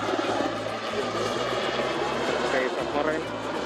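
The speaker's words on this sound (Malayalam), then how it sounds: "Seeking helicopter." A Sea King helicopter flies past during a navy day final rehearsal, its rotor thumping in a steady, rapid rhythm under a continuous engine drone, with people talking over it.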